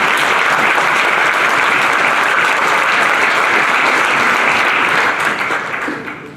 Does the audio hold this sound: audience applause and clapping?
yes